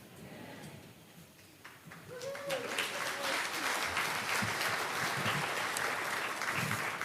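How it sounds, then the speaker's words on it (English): A crowd at a banquet breaks into applause after a couple of quiet seconds, clapping steadily and fairly loud, with some voices mixed in underneath. "Were you clapping for me or for Titan?"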